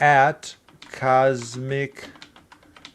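Computer keyboard typing a username, several soft quick key clicks mostly masked under a voice.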